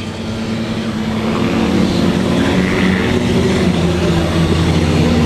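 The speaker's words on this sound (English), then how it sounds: "There's Joe out spinning donuts in the infield." A race car spins donuts on the infield, its engine droning steadily and loudly throughout with a constant, rough harmonic roar and no voices.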